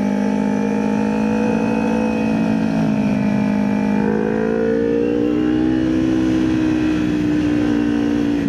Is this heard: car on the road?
yes